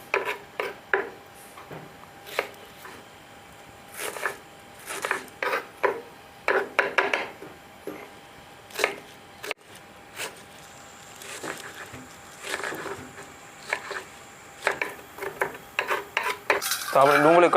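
An onion is finely chopped with a knife on a board for a green corn chevdo, giving a quick run of crisp, uneven taps and knocks in short bursts with brief pauses, fairly close and clear without talk.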